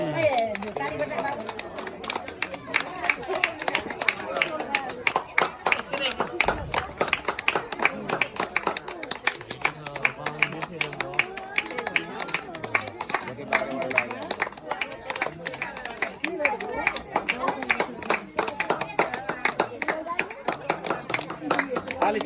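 Guests at a Nepali wedding ceremony in Morang, Belbari, clap in a steady, continuous rhythm close by, with crowd chatter and voices mixed in throughout.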